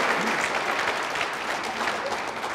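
Audience applause at a 2018 Democratic gubernatorial debate, a dense, steady clapping that stays loud and even throughout with no speech over it.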